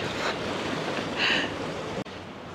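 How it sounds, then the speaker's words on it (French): Steady surf washes in and out on the shore at Peñíscola, Spain, a constant rushing roar of waves with a slight swell partway through and no voices. "Puis alors ce bruit de ressac."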